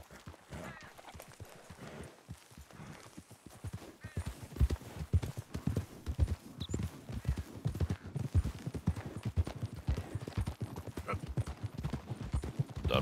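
Steady clip-clop of horse hooves walking at an even pace in the game Red Dead Redemption 2, with occasional faint voices or game sounds underneath.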